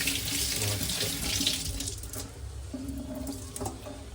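Water runs from a household tap for hand washing, a steady splashing gush into a sink that eases slightly partway through, close and alone with no talking.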